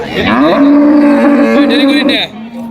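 A loud, close moo from a Friesian cow at a cattle market, one long drawn-out low call that holds steady for over two seconds before trailing off.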